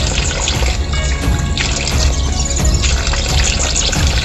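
Cold spring water trickles and splashes steadily after filtering through several layers of rock in a deep monsoon forest, a loud, close, continuous babbling flow.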